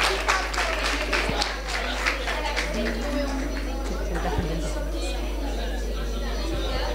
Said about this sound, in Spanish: otro aplauso para el equipo 3.